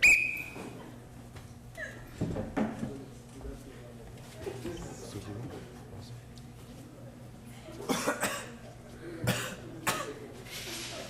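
Several coughs and throat-clearing bursts from a performer at an improv comedy cabaret, scattered through the stretch with a clustered pair near the end, mixed with background chatter on a stage.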